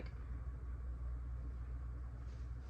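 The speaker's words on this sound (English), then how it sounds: "that noise just sounded like my boyfriend's truck" Engine noise from a truck outside rumbles steadily, low and fairly faint, a continuous droning hum heard from indoors with no talk over it.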